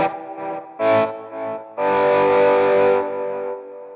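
Electric guitar strummed through high-gain distortion, loud, dirty chords rung out in a few separate bursts, the last one held and sustaining alone without talk.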